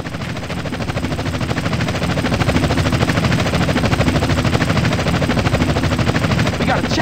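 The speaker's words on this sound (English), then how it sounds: "We got a chopper on our tail." A helicopter's rotor in the video game GTA San Andreas thumps in a fast, steady chop, loud and close, growing slightly louder and holding steady throughout.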